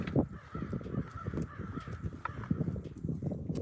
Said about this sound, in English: Oh, they're being crowing. They're being crows.